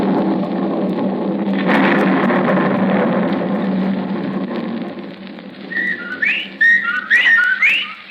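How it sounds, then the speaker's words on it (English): Whippoorwill calls as a sound effect in a 1945 Suspense radio drama of The Dunwich Horror: after a stretch of steady hiss, several rising whistled bird calls repeat quickly near the end. "The whippoorwills"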